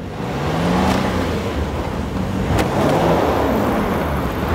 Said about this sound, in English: All four wheels are spinning.